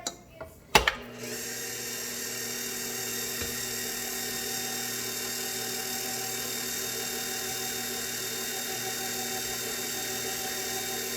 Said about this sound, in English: Now it's time to pop this bad boy on the mixer.